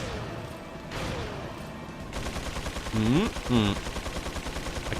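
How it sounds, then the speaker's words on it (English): Rapid automatic gunfire from the chain gun enemy in Resident Evil 4 on Pro mode, dense bursts layered over game noise, with someone speaking over part of it. "That's the chain gun man shooting."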